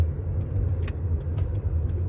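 A car rolls along a road at around 30 mph behind a news van, a steady low rumble of engine and tyres with faint rattles, no talking.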